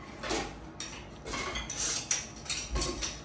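Plates, bowls and cutlery clink and clatter in short irregular bursts as dishes are gathered and stacked after a home dinner, close and moderately loud, with no talking.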